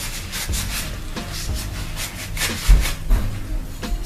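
Paint is wiped off a small terra cotta pot, giving rhythmic rubbing strokes of cloth on rough clay, close up and steady at about two per second, with no talking.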